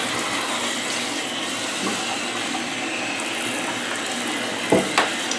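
Shower water runs in a steady, close hiss while a cat is bathed, the spray continuous throughout, with a couple of brief clunks near the end and no voices.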